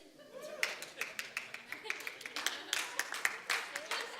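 Scattered audience clapping, a quick run of sharp claps at moderate volume with a murmur of voices in the room.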